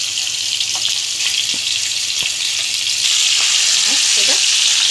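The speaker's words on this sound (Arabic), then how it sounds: "هننزل اول حاجه بالصدق بتاعي او السجق" Sausage drops into very hot oil and sizzles continuously, a close, dense crackling fry with small pops and spatters throughout.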